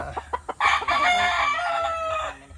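A rooster crows loudly and close, a single long cock-a-doodle-doo after a few short clucks, on a Filipino farm where 8-month-old gamefowl are being shown.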